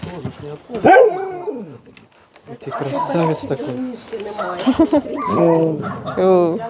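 Dogs bark at a municipal animal shelter in Pavlohrad, with several short bursts heard close by under and between people talking.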